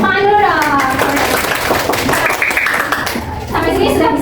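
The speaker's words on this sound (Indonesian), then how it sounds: "Oke, tepuk tangan dulu dong." Elementary pupils in a sixth-grade classroom break into a burst of clapping, with children's voices and chatter mixed through the applause for a few seconds.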